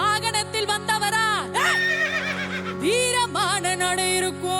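A horse whinnies in rising and falling cries over loud, sustained devotional music at a Tamil temple puja for Karuppasamy.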